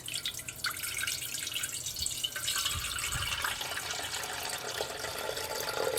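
Water runs steadily into a 1950s General Electric coffee percolator, Model P400A, being filled to the six-cup mark, a continuous close trickle with a rising pitch as the pot fills.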